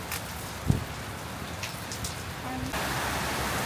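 Heavy rain pours steadily outside a second-floor veranda, a dense continuous hiss with a brief thump near the start and a faint tonal hum toward the end.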